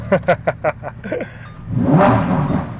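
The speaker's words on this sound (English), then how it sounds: "I'm just going to start it up, standard, like a normal Huracan." A Lamborghini Huracan STO engine cranks with a few sharp bursts, then catches and settles into a loud, rough idle close by.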